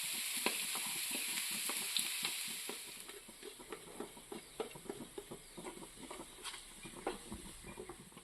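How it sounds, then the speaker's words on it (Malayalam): Onion and salt sizzle in hot coconut oil in a pan, a constant bright frying hiss with close, rhythmic stirring scrapes and taps running steadily throughout. "ശേഷം സവാളയും ഉപ്പും ചേർത്ത് നന്നായി ഇളക്കി കൊടുക്കുക"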